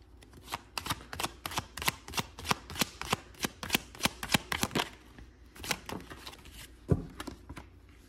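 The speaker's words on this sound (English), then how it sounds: "let's start with the tarot first" Tarot cards are shuffled by hand in a quick run of crisp, close riffling slaps, many in steady succession, with a short pause and a final knock near the end.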